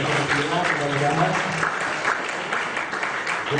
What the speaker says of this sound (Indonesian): Tepuk tangan untuk kita semua lah.